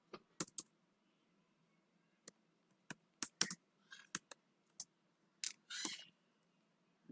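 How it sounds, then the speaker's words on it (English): Code is typed on a computer keyboard in scattered bursts: sharp single key clicks and short clusters of rapid taps, close and clear against a quiet room. "So we will type the message for the addition."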